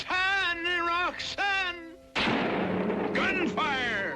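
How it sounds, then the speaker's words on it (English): Gunfire bursts out as a loud, sudden crack and rumble in a Cyrano de Bergerac drama, breaking in after sustained voiced shouting, with voices calling again over the noise. "Gunfire!"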